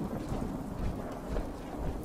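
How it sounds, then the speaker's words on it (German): Rain and thunder in the video game Fallout 4, a steady low rumble of thunder under constant rainfall, fairly faint and without voices. "Ich mochte den Regen schon immer."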